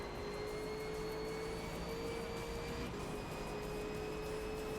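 A racing car engine holds full throttle around Silverstone in Forza Motorsport, a steady, fairly faint high-pitched drone with a slowly shifting tone and no talk over it.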